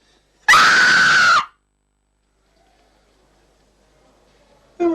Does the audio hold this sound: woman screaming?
yes